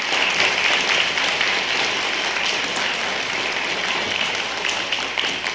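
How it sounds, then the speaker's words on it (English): A crowd at a Board of Education meeting applauding steadily, dense clapping filling the whole stretch and tapering slightly near the end. "So let's give this Board of Education a round of applause"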